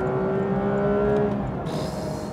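The engine of a Porsche 992 GT3 with a PDK gearbox runs loud at high revs from inside the car. Its strong droning note holds, then drops abruptly on a quick shift.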